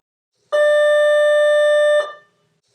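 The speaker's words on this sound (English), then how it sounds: "you will need to stay with your class until the release bell sounds" School release bell, a single loud steady electronic tone lasting about one and a half seconds, starting abruptly and then cutting off with a short fading tail in an otherwise quiet space.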